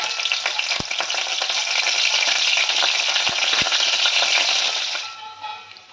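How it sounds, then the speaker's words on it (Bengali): Curry leaves, fennel, cumin and mustard seeds hit hot white oil in a kadai and fry with a loud, steady hiss, with a few sharp pops and crackles, before the sizzle eases toward the end. "এই তেলের মধ্যে আমি দিয়ে দিচ্ছি কারি পাতা, মৌরি, সাদা জিরে, সর্ষে।"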